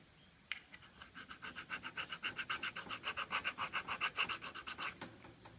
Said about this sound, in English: give it a light scrape with the file just to take that shiny stuff off